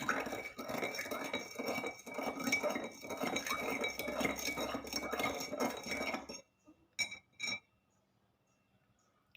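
A spoon clinks and scrapes rapidly around inside a glass of water and sand for several seconds, then stops, followed by a couple of faint taps and silence.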